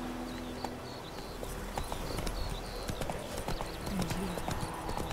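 Horse hooves clip-clopping in a quick gallop rhythm in the video game The Witcher 3, steady and close, with a brief neigh and faint game sounds behind.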